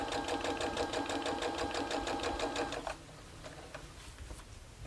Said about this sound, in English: you just sew all the way down